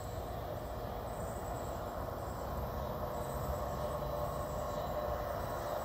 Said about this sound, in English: Looks like it might be a coal train.